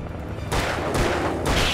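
Gunshots in the Alan Wake video game, three quick heavy blasts about half a second apart, each a loud burst with a short rumbling tail.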